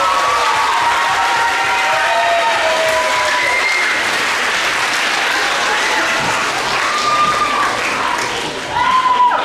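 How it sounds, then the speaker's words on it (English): Students at a middle school winter concert applaud their families and parents: a loud, dense, sustained round of clapping with some cheering and crowd voices mixed in. "Students, let's give your family and your parents a big round of applause."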